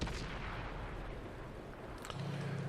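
Tank guns and artillery fire in a tank battle game, with a dull, distant rumble of shots and a sharper report near the end over constant low engine noise.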